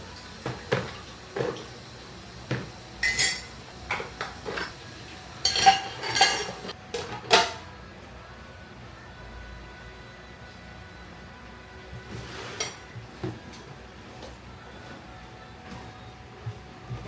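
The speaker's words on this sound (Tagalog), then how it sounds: "Maghugas ng pinggan at linisan yung microwave." Dishes and pans being washed in a home kitchen sink, with scattered clinks and clatters of plates and cutlery over a running-water hiss, busiest early and then quieter.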